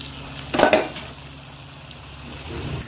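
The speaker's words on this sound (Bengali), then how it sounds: "ওটা কষিয়ে নিই" Sautéing of fried prawns and potatoes in a pan for a Bengali fish curry with kolmi greens, a short sizzling stir burst near the start that fades into a quiet steady background.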